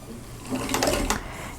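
Sewing machine stitching quilt block pieces in a short steady mechanical whir that rises slightly in the middle, close by and alone.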